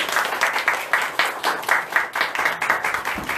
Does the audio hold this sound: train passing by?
no